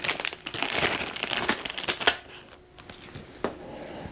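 Metal mounting bolts for a Goldwing aluminum belly pan jingle and clink in a bag or hand, a busy run of small metallic taps and rustles up close, then a quieter pause broken by a few isolated clicks.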